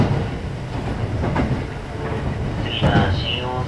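A local train bound for Nagahama toward Maibara rumbles steadily from inside the carriage, with a rolling wheel noise and a brief high squeal or tone near the end.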